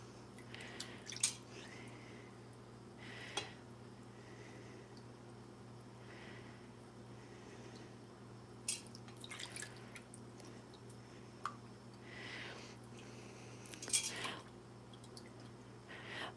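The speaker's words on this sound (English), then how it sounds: "I am just washing them out." Faint water drips and small splashes as vintage thread clusters are washed out in water, scattered irregular drops over a quiet background hum.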